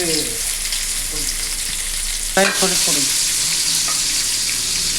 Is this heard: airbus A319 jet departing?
no